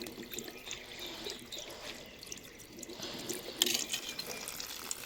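Water running from a tap as cashews and almonds are rinsed in a tea strainer, a soft continuous splash and trickle with a brief louder gush near the end.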